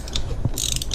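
Ratchet loosening a red-Loctited brake caliper bolt on a UTV, a quick loud close-up burst of clicking ratchet teeth and metal mechanism noise lasting about a second.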